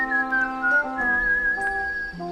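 A person whistles a cheerful, bouncy melody for a couple of seconds, the pure wavering tone gliding between notes over a soft musical backing, with no talking.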